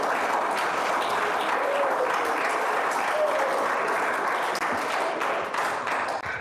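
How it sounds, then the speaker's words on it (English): A hall audience at an Al-Ghadir celebration at George Washington University applauds a speaker, a sustained, dense round of clapping that holds steady for several seconds before tapering slightly near the end. "He deserves a round of applause,"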